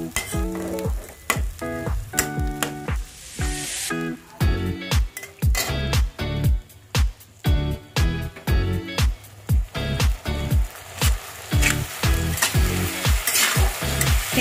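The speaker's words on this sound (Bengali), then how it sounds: "এবার এই মশলাটাকে ভালো করে কষাবো।" Kashmiri chilli spice paste frying in hot oil in a pan, a constant sizzle broken by a steady rhythm of repeated scraping stirs from a spatula, close and fairly loud.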